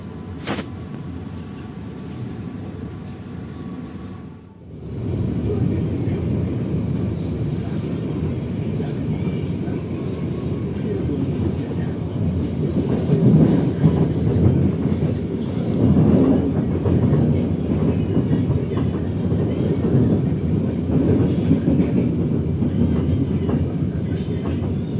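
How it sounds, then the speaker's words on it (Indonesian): The Matarmaja economy train pulls out of Jatibarang station, a brief hush giving way to a steady, rising rumble of wheels and carriages with rhythmic clatter, heard from close by for a long stretch. "Pukul 13:52 kereta api Matarmaja berangkat dari stasiun Jatibarang."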